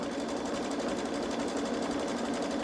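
A Babylock Solaris embroidery machine hums through background fill stitching in a steady, even run, loud and close with no pauses.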